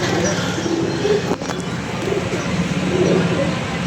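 A flock of pet pigeons coos softly through a constant wash of outdoor background noise, with a brief sharp knock partway through.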